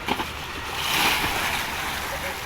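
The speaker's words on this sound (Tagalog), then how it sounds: "Yan oh, maalon. Ang lakas oh." Strong sea waves wash and surge in a continuous broad roar, swelling louder at the middle, close by with a breezy hiss on top.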